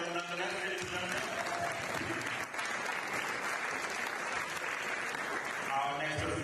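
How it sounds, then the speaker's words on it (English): An audience at an aquatic federation awards ceremony in St Lucia applauds for swimmers, steady dense clapping filling the hall at an even level throughout. "Round of applause for them nonetheless, ladies and gentlemen"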